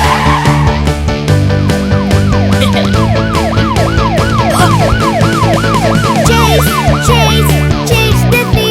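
Wailing police car siren sweeping up and down repeatedly within a bright, busy kids' song, loud and steady over music throughout.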